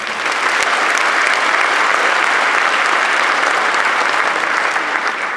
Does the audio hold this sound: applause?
yes